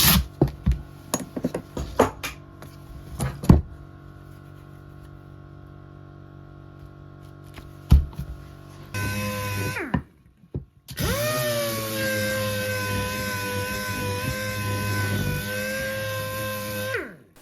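A power sander works over pallet wood: a few sharp knocks and taps, then a low hum, then two loud sustained sanding passes with a steady whining drone, one brief pause between them.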